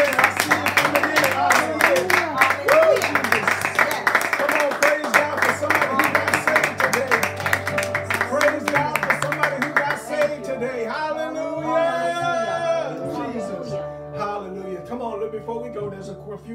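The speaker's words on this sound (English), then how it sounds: "Come on, let's give a hand and clap of praise for those givers." A church congregation claps in praise for the givers, dense rhythmic clapping over music, with the clapping thinning out as the music carries on.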